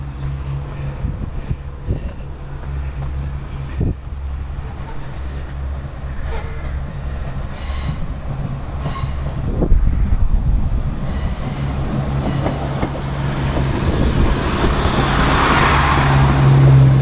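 A train rumbles through a lowered-gate level crossing in Rye, East Sussex, heard close and loud, with a low continuous roar, wheel clatter and a faint squeal, the noise building toward the end.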